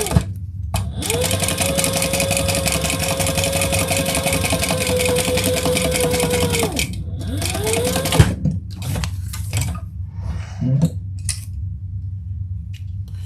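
A sewing machine top stitches a shirt, giving a loud, steady mechanical whir with a rapid needle rhythm for about six seconds. It slows and stops, then a few short bursts and handling clatter follow.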